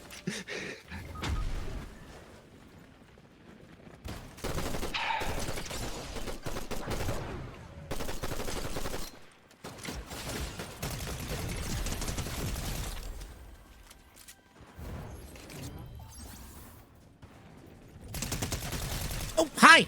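Shotgun blasts and bursts of gunfire in a Fortnite match come in irregular clusters with quiet gaps between, moderately loud, with players' voices talking at times.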